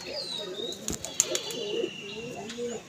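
A Girebaj pigeon flaps its wings in a few brief bursts near at hand at a home loft, with soft bird coos and faint chirps around it.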